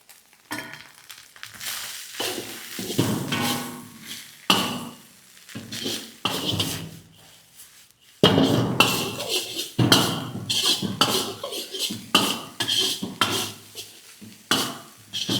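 Egg chicken fried rice tossed and stirred in a pan with ginger-garlic paste, a spatula scraping and clanking against the metal in uneven bursts over a steady sizzle, close and fairly loud.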